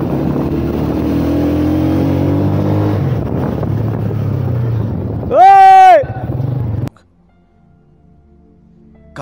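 Motorcycle ridden at speed, engine rumbling and revving with wind buffeting, then a loud horn blast before the sound cuts off abruptly to near silence; someone talks over it.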